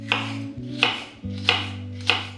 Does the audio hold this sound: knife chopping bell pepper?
yes